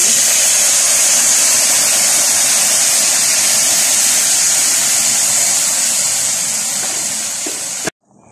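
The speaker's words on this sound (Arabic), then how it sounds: "هننزل عليه بقى بالميه السخنه اللي احنا مسخنينها" Hot water is poured steadily onto sautéed rice with tomato paste in a pot, a loud continuous rushing splash that holds for about eight seconds and then stops abruptly.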